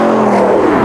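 A factory-fresh Spyker C8 sports car engine drones steadily and loudly under way, a continuous close-up roar with no talk.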